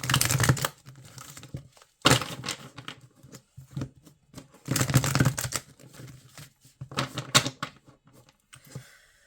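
Tarot and oracle card decks are shuffled and handled up close, with crisp riffling bursts, soft slaps and papery flicks coming in irregular clusters separated by short pauses, and no voices.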